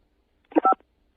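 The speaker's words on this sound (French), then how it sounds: "Appuyez sur la touche 5." A single telephone keypad DTMF tone from pressing key 5, short and clear, with a faint click just before it and silence around it.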